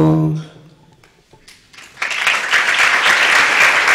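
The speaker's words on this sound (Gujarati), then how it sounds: "અખંડ તાળીનો ગડગડાટ તાળીનો નાદ આપણે ચાલુ રાખીશું" Continuous applause at a Swaminarayan temple in Gandhinagar during a lamp-lighting ceremony starts after a brief sung note and a pause, swelling into a loud, dense crowd of clapping that holds steady.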